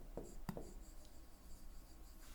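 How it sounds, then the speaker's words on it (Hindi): Chalk or marker strokes on a classroom board give a few short scratchy taps and scrapes, then a faint continuous rub, quiet and close with no talk. "मैं यहां पर लिख दे रहा हूं"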